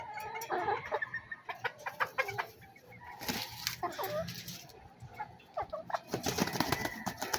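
Farm chickens cluck repeatedly in bursts close by, with occasional wing flaps, while people talk in Tagalog over and between the calls.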